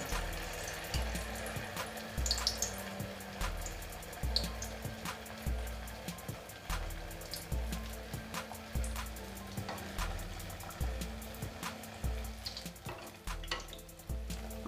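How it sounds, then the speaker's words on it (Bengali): Malpua batter sizzling as spoonfuls go into hot oil over a medium flame, a steady close frying hiss with bubbling texture running throughout, no talk. "তেল গরম হয়ে গেছে, এবার মালপোয়া ভেজে নেব।"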